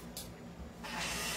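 Lubricant sprays onto the nozzle of an airsoft Glock 18: a short hissing burst, then a longer, louder spray hiss close by. A steady low hum sits underneath.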